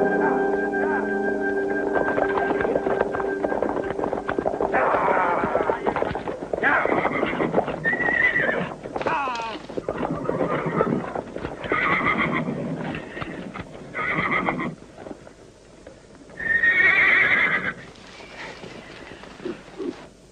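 Horses whinny and neigh repeatedly while hooves clip-clop in a mountain western setting, with a high whinny standing out near the end and voices talking over parts of the scene.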